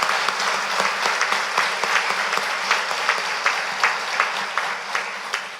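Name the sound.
applause in church on Easter Sunday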